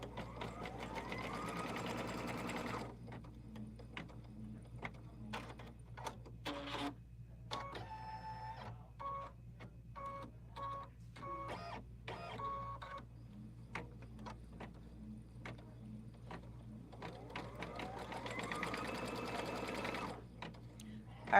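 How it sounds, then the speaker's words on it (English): An embroidery machine stitches a color stop to tack down a fabric piece onto stabilizer, with rapid rhythmic mechanical needle chatter in bursts, pauses between runs and a low steady motor hum underneath. "you can go ahead and stitch color stop number 3, which will tack down that piece"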